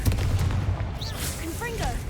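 Confringo fire spell blasts in Hogwarts Legacy, a few sharp booming bursts under busy game sound and background music, with a voice briefly calling out amid the noise.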